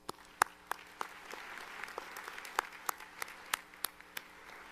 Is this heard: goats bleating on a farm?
no